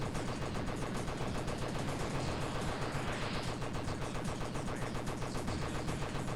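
Rapid-fire player shots in Tempest 4000 sound as a fast, steady machine-gun patter of electronic blasts. A rising synthetic sweep passes over the shots midway, and no voices are heard.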